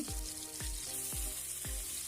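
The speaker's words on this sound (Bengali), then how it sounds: "কাঁচকলাগুলি দিয়ে দিলাম এই তেলের মধ্যে" Oil sizzles steadily in a pan of frying green banana slices, with a dull low thump repeating about every half second underneath.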